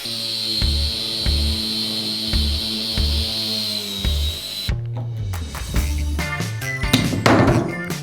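A power drill bores through a plastic pipe in steady pulsing bursts, then the pitch shifts and the cutting grows rougher and louder toward the end as the bit works through, with no talk.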